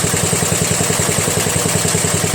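A Briggs flathead engine on a Murray Select riding mower idles steadily up close, with a rapid even chugging pulse and mechanical clatter, on a cold day.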